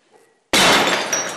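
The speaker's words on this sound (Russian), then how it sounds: "ненароком разбила дорогую антикварную вазу" An expensive antique vase shatters in one sudden loud crash, followed by bright scattering glassy debris that trails off, close and alone.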